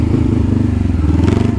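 Honda CBR motorcycle engine pulling hard under acceleration, a loud, close, throbbing exhaust note with rapid pulsing and some clatter over a short burst.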